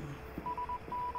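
A telephone rings in a horror video game at a radio station, a thin electronic tone pulsing in short repeated bursts, moderately quiet against a low background hum.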